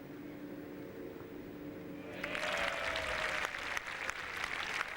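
A golf gallery at the final round of the Dubai Desert Classic bursts into sudden loud applause and cheering partway through, following a quieter stretch with a faint tone, the clapping sustained to the end.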